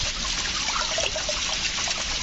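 Cold stream water trickles and splashes steadily along a hiking trail, a close, continuous burbling with no voices.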